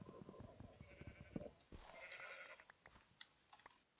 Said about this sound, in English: These sheep are really annoying and loud.